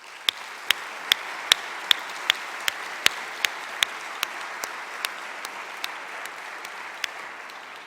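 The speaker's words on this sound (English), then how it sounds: "Let's give those folks a round of applause." Audience applause at a 2015 State of the University address fills the hall steadily for eight seconds, a dense wash of clapping with a few sharp, close individual claps standing out in a loose rhythm.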